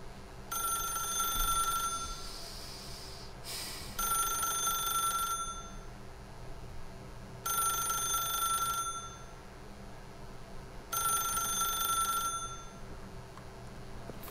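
A telephone in The Stanley Parable rings in four evenly spaced bursts of bright bell trills, each about two seconds long with short pauses between, clear and close with no voices.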